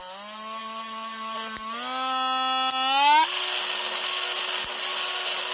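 A Parkside 12-volt lithium-ion rotary tool whirs with a steady high-pitched motor tone that climbs in pitch as it speeds up to high RPM, running alone and close up.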